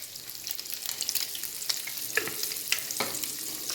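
Quail eggs sizzle in a pan with turmeric and pepper powder. The frying hiss is steady and fairly quiet, with occasional light scrapes and clicks as they are stirred.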